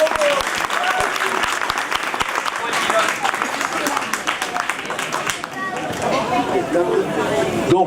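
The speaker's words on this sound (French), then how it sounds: "On l'applaudit très fort, monsieur Moreau." Sustained audience applause at a Bugatti awards ceremony during the Molsheim festival, a dense steady clapping from a crowd with some chatter mixed in, continuing loudly throughout.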